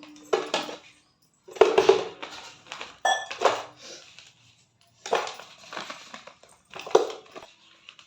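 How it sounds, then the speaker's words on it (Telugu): Lumps of jaggery drop into an empty metal pot in several separate bursts of clattering thuds and rattles, close and fairly loud, with quiet gaps between them. "ఇదిగో బెల్లం వేస్తున్నాను"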